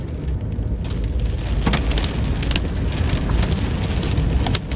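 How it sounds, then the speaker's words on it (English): Large hailstones pound a car during a supercell storm near Seymour, Texas, a loud, dense roar of drumming on the body with sharper individual impacts cracking through, close and continuous. "I'm seeing impacts of what look like much bigger hailstones"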